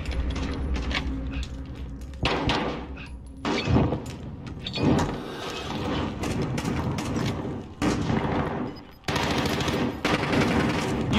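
Rapid automatic gunfire and pistol shots from a Call of Duty: Warzone match come in dense, loud bursts with short gaps, with mechanical clatter between volleys.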